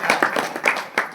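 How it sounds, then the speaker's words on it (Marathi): A crowd claps hands at a temple pilgrimage gathering, several quick uneven bursts of applause mixed with voices over about a second. "येळकोटला टाळ्या वाजवा ना"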